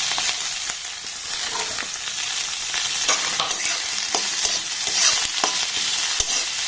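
Thin-cut potato strips fry with browned onions in a pan, making a steady, loud, close sizzle and crackle with occasional soft stirring scrapes, no voices.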